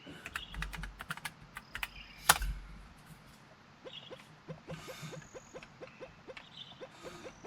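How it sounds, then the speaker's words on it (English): Computer keyboard keys clack as a command is typed, a quiet, uneven series of sharp taps with one louder strike, then a steady rhythmic run of keystrokes. "So press enter again and type that command back in."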